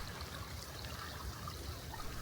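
A flowing creek in a shady forest, on the north-facing side of a tall ridge, gives a steady, soft babble and trickle of water that runs evenly throughout with no talking.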